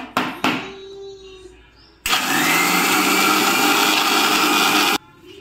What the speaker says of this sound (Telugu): కొంచెం వాటర్ వేసుకుంటూ మనం చేసుకుందాము మిక్సీ